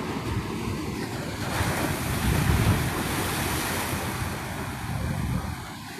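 Sea waves roll onto the seashore at Amritapuri, Kerala, a loud, steady surf roar that swells and recedes, mixed with heavy wind buffeting the microphone and no voices.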